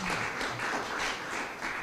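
Conference audience gives a round of steady, moderately loud applause with many hands clapping evenly, a faint voice briefly audible underneath.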